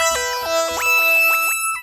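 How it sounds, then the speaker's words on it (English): A synth lead preset called Whiner Lead on a DSI Pro 2 synthesizer, playing a bright, buzzy melodic line of sliding, gliding notes with no gaps between them for about two seconds before cutting off. "I found this lead patch called Whiner Lead, which sounds like this."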